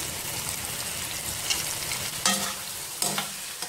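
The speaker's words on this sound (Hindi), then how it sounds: "और अब मैं इसमें शामिल करूँगी 2 दरमियाने गोल स्लाइस में कटे हुए टमाटर" Round tomato slices go into frying masala for a potato and yogurt biryani and are stirred, giving a steady close sizzle broken by several sharp spoon scrapes and clatters.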